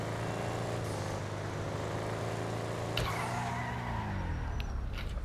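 A Buffalo Cruiser police car, modeled on a 2011 Dodge Charger, in GTA 5 runs with a steady close engine drone, then brakes hard partway through, its tires skidding as the engine pitch winds down to a stop.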